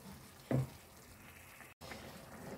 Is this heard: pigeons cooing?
no